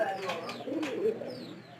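A pigeon coos in low, throaty bursts, close by, over a faint background murmur.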